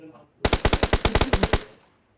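Automatic gunfire in PUBG Mobile on the Livik map: a rapid burst of about a dozen sharp, evenly spaced shots, loud and close, ending in a short fading tail.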